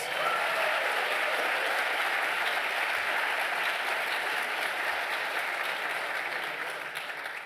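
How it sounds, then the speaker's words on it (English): An audience at a talk claps and applauds in a dense, steady wash of many hands that holds for several seconds before tapering slightly at the end. "I want a show of claps and applause."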